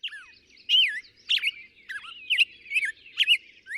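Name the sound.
black-headed grosbeak song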